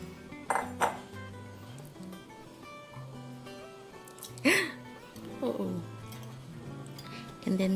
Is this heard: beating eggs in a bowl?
yes